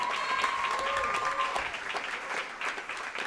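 Audience applause at a live church cantata concert commemorating 500 years of the Protestant Reformation, greeting a violinist and singer; steady, dense clapping fills the whole stretch at moderate loudness, with a brief sustained tone early on.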